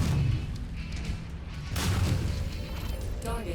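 An incoming missile blast in the mech combat game MechWarrior 5, a broad booming burst around the middle over steady rumbling battle noise, with no voices.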